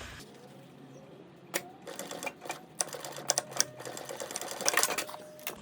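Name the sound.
sewing machine stitching a bikepacking tool pouch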